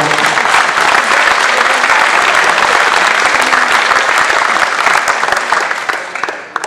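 Audience clapping loudly and continuously at a gathering honouring helpers, a full dense burst of applause that holds steady and then tapers off at the end.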